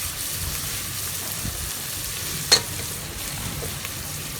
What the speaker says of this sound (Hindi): इसके अंदर हम गोश्त ऐड कर लेते हैं और गोश्त की बुनाई कर लेते हैं।